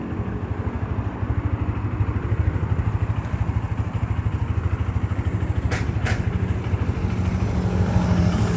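Modenas Z15GT motorcycle engine running after start, a steady close rumbling idle with a fast even pulse throughout, loud and alone.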